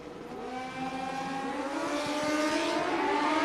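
A Kawasaki KZ motorcycle on a drag strip, its engine note climbing steadily as it accelerates down the track, a sustained rising buzz heard from a distance with no talking.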